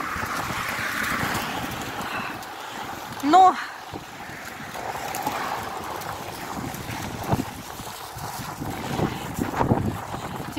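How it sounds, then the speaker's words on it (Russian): Strong, cold northern wind in a Norilsk winter at minus 26 degrees, gusting 10-15 metres per second, roars steadily across the microphone in buffeting waves, with a person speaking over it. "Ветер северный, и это очень холодно."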